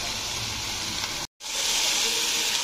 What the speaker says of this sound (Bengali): তো দেখো সসটা দেওয়ার পরে একটু ফুটালাম